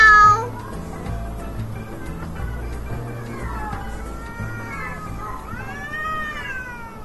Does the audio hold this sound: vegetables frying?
no